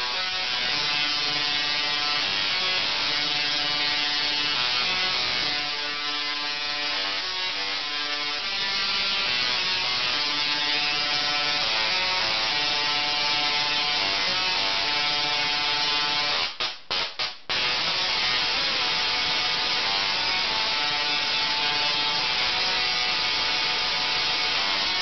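A small DRSSTC Tesla coil plays a song through MIDI, its buzzy, harsh electric tone stepping through sustained melodic notes. The sound is loud and continuous, with a brief cutout partway through and no talking.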